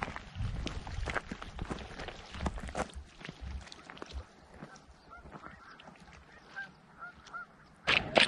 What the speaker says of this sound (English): A herd of geese.